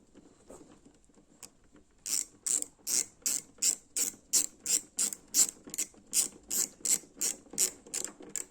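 A screw is tightened on the air filter of a 2024 Kawasaki Ninja ZX6R motorcycle, giving about eighteen evenly spaced ratcheting clicks close up after a quiet start.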